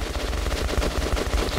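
AK rifle firing in the Metro: Last Light shooter game, a loud continuous automatic burst of rapid evenly spaced shots with no pause.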